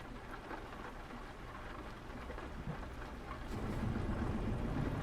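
Steady rain falls in Euro Truck Simulator 2 while a truck drives, a continuous hiss of drops that swells louder toward the end, with a low rumbling undertone beneath it and no voices.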